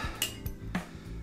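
One large ice cube dropped into a cocktail glass, a couple of sharp clinks and knocks against the glass in a quiet kitchen, with no talking.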